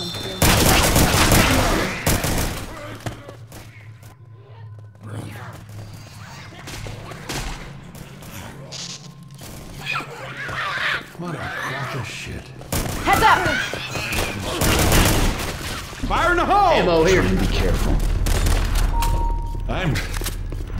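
Gunfire in Left 4 Dead 2 erupts in rapid bursts and scattered shots, loud and close, mixed with booms and thuds while voices shout over the action.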